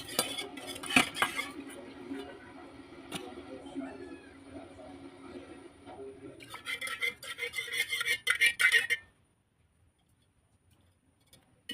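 A spoon stirs a milk and egg mixture in a metal pot on the stove, with steady scraping and clinking against the sides that grows busier near the end before stopping abruptly.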